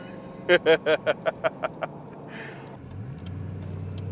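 A 1998 Ford Crown Victoria P71 Kenny Brown Panther pulls away after a series of sharp rhythmic knocks, its engine rising into a steady low drone as it moves off.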